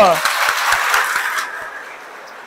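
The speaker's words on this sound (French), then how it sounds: "Si elle vous a plu, applaudissez pour vous-même." Audience at a French talk on modern farming applauds at the close of the conference, a dense burst of clapping that starts loud and gradually thins and fades over a couple of seconds.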